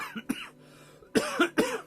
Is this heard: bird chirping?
no